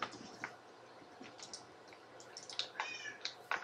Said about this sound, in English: You're going meow, meow.